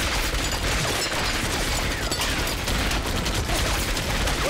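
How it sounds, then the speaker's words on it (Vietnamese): A war drama shootout in an anti-Japanese action series brings dense, rapid bursts of gunfire, with cracks and clatter overlapping loudly and continuously over the whole stretch. "Bắn trả, bắn trả."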